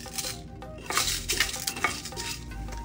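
Fennel, coriander seeds and red chilies roasting in a little oil in a pan, stirred with a metal spoon: soft sizzling under repeated scraping and clinking strokes, close and steady.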